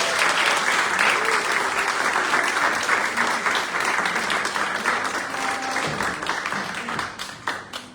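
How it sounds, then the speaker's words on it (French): Sustained applause from a live audience welcoming a guest, dense and steady for several seconds before thinning into scattered claps, with voices murmuring underneath. "Merci de l'applaudir s'il vous plaît."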